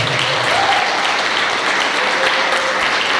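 A church congregation applauds a family and couple called to the front, with steady, dense clapping from many hands that holds evenly at moderate loudness, a faint voice briefly audible underneath.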